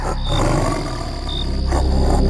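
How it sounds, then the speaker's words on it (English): A large cat, such as a lion or panther, gives a loud, close, growling roar that swells and rumbles for a couple of seconds, heard alone in a tense audio drama scene. "That sound, it seems to be coming from a large cat."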